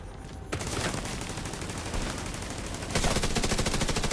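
Rapid automatic gunfire in The Division 2, continuous bursts that start after a brief quiet moment and grow louder and denser toward the end.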